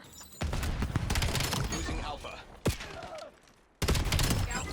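Sustained automatic gunfire in the Black Ops 7 beta, dense and loud bursts filling most of the moment, broken by a brief lull and a sharp single crack before firing resumes.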